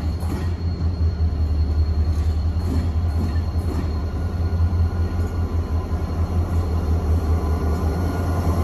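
A train stopped at a station on the Lisbon to Bordeaux route gives a low, steady rumble and hum throughout, with faint metallic squeaks and no voices.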